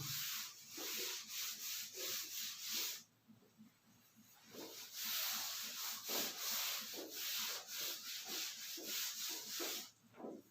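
Rubbing out writing with an eraser gives repeated quick scratchy strokes in two bursts separated by a short pause, fairly faint and close with no talking.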